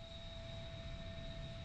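An aircraft engine throttling up, a steady droning hum with a constant tonal whine, heard faintly and evenly throughout the short stretch.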